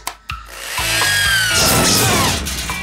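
A power drill spins up with a rising whir after a couple of sharp knocks, then runs steadily at high speed.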